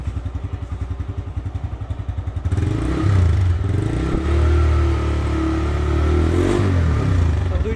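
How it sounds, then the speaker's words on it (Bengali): A TVS Raider motorcycle engine runs close by, first with a rapid, even pulsing idle, then jumping to a louder, fuller drone with a rising and falling rev. "এটি হচ্ছে টিভিএস রাইডারের সাউন্ড।"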